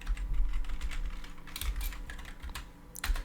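Quick, uneven clatter of keys on a computer keyboard while Python code is being written, the bursts of typing close and distinct with short pauses between runs and no voice.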